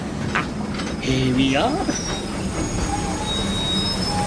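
A train pulls into a station in a radio drama, its wheels squealing in rising and falling metallic tones amid steady rail rumble, while a voice speaks briefly over the noise.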